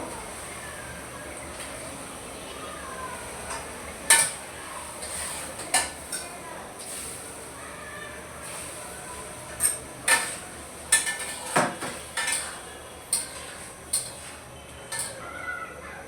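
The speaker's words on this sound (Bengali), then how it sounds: "দিয়ে দিলাম পাঙাশ মাছগুলো, এখন কষায় দিব" Pangas fish being stirred and fried in a pan, with a low frying hiss under repeated metallic scrapes and clanks of a spoon against the pan, irregular and fairly close.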